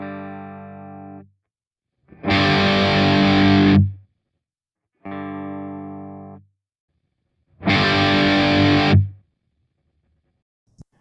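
Electric guitar played through a Kemper Profiler, alternating between clean, ringing phrases and thick distorted chords, with the distorted passages noticeably louder; four separate bursts with short silences between them, no talking.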